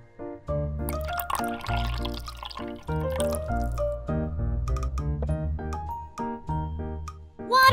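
Vinegar is poured while cooking a miniature dish, a string of close, hollow, bubbly glugs and drips with changing pitch.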